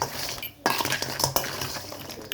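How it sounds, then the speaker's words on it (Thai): A spoon stirs Thai pickled crab and squid salad in a bowl, making close, crisp clinks and scrapes in quick irregular bursts after a short pause, with no talking. "คนส่วนผสมทุกอย่างให้เข้ากันนะคะ ให้น้ำตาลละลายค่ะ"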